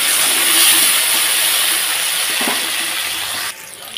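Potatoes fry in hot oil in a pan, giving a loud, steady hiss with a faint crackle that cuts off abruptly near the end.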